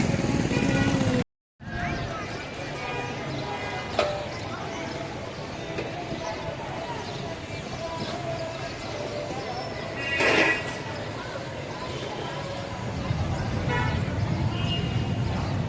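Street traffic flows past a religious Eid Milad-un-Nabi procession, a continuous wash of engines with intermittent horn toots, a brief dropout early on, and voices talking throughout the busy outdoor scene.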